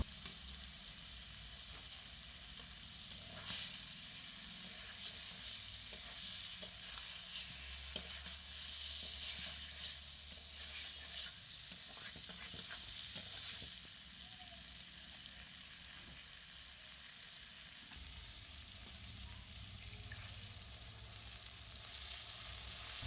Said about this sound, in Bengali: মশলার সাথে তো আমার সব কিছু ভালো করে কষানো হয়ে গিয়েছে।